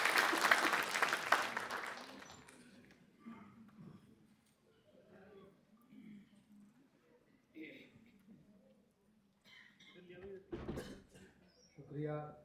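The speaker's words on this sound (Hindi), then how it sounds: "एक बार जोरदार तालियां।" Enthusiastic applause from the audience at a two-day international Hindi award ceremony in Delhi opens loud, fades away within a few seconds, and gives way to scattered talk and sounds from the stage.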